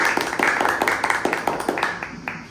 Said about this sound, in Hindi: सभी लोग इसके लिए ताली बजाएं